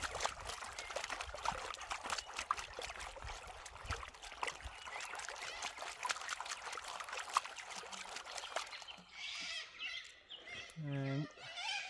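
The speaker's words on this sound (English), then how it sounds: "Probably about half a pan of gravel. Just a bit of a wash." Half a pan of gravel being washed in a prospecting pan, with water sloshing and pouring steadily for about nine seconds before it stops and a few nearby goose-like bird calls ring out.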